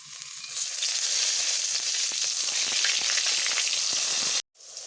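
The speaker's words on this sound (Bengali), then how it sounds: "তেলে বেগুনগুলোকে ভেজে নেব।" Eggplant slices fry in hot oil with a loud, steady sizzle and crackle that holds for over four seconds before cutting off abruptly, with no talk over it.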